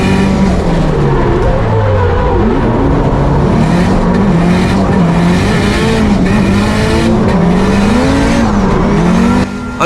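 A Nissan S13 Silvia drifting hard on a track, engine roaring loud and close with wavering revs while tires squeal continuously through the slides.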